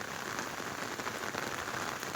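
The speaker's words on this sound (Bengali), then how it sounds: "এই দেখেন কেমন জোরে বৃষ্টি পড়ছে" Heavy rain pours down in a dense, unbroken hiss, loud and close with no pauses and no voices.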